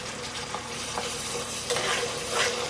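Half-cooked masala fries in oil with a bay leaf for paneer masala, giving a continuous soft sizzle. Light stirring scrapes and taps break through now and then, close by and alone with no voices.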